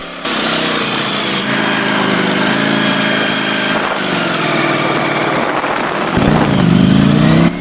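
A 2020 Ducati Streetfighter V4S engine drones loudly and steadily while the bike is ridden, its tone wavering up and down with throttle and rising to a harder pull near the end, with no talking over it.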